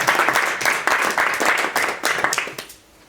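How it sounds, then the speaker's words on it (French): Audience at an association general assembly applauding, a fairly close burst of many clapping hands in uneven pulsing waves that tapers off into quiet after about three seconds. "je vous demanderai d'ailleurs de bien vouloir les applaudir"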